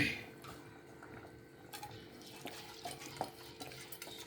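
Rice is added to a pot for beetroot rice and stirred, giving soft scraping and light clinking under a low, steady frying hiss, with a few sharper taps of the spoon against the pot.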